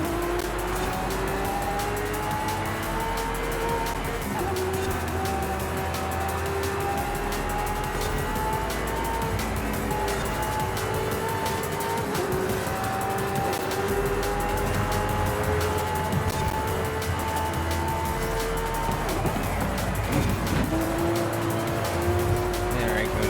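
A race car roars through a Forza Horizon 5 run, with a continuous loud engine drone rising and falling through gear changes and occasional tire squeal. It plays steadily throughout and is heard alone.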